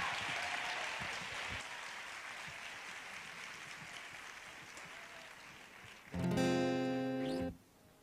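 An audience applauds steadily for a singer at a live concert in Toledo, a broad sustained clapping that fades before the music starts loudly near the end.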